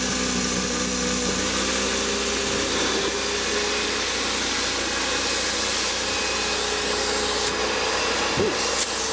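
A Gutter Pro Vac gutter-cleaning vacuum runs steadily and loudly, a constant motor drone and airflow roar that holds throughout with a brief suction surge near the end.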